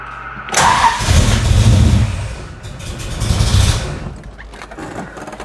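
A car engine with FiTech fuel injection cranks briefly, then catches and roars to life with a couple of revs before settling toward a quieter idle, close by.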